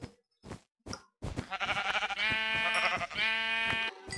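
Sheep in Minecraft bleat in a run of close, loud, wavering calls. Short thuds come first, and the bleats follow back to back, one after another.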